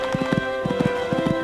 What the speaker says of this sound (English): My goodness, this horse has a lovely way of jumping.